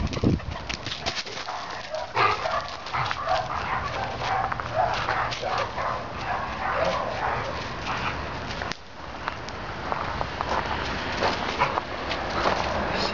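A dog plays fetch with a ball outdoors, with scuffling, panting and occasional whimpers in continuous nearby activity. Birds sound faintly in the background.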